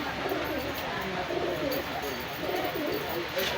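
Vibrating high-flying pigeons coo in a pen, soft repeated coos under continuous background noise, with a voice faintly present.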